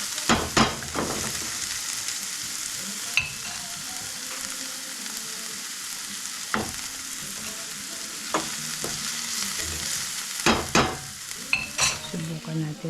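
Chicken sautés in hot oil in a home kitchen, a constant close sizzle broken by sharp spatula scrapes and clanks against the pan at irregular intervals, with no talking.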